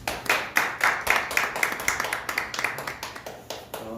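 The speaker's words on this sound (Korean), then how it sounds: "축하하는 박수 한번 합시다." A church congregation at a Sunday service claps in congratulation for a young member who has just started university, with brisk, fairly regular claps repeating steadily and close by for the full four seconds.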